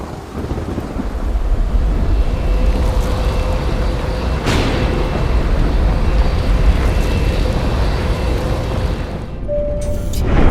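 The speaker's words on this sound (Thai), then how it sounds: "เครื่องบินก็ได้ทะยานสู่ท้องฟ้า ท่ามกลางสายฝนที่ยังคงโปรยลงมาไม่ขาดสาย" A continuous roar of jet engines as an airplane takes off mixes with the steady hiss of heavy rain, broken once by a sharp thump, with no voices.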